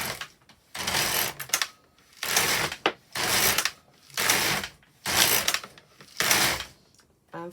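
An LK150 knitting machine carriage knitting on alternate needles sweeps back and forth in six steady rasping, clattering passes, close and loud, each separated by a brief pause.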